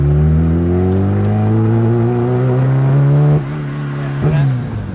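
A tuned 750-horsepower Lotus engine warming up, with a loud close rev that climbs in pitch, then falls back to a lower steady idle with a brief blip near the end.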